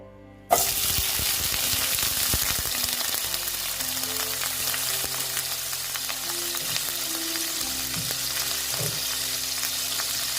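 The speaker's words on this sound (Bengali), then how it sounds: "এবার আমি পনিরগুলো ভেজে নেব" Paneer dropped into hot ghee bursts into a loud, steady frying hiss that holds without a break, with occasional spatula scrapes beneath it, close up and without speech.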